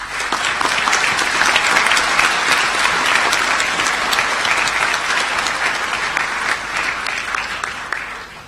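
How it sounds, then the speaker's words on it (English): A large audience at a university graduation ceremony in Malaysia claps in a long, dense, sustained round of applause, loud and even for about eight seconds before tapering off at the end, with no talk over it. "show them your appreciation with a round of applause"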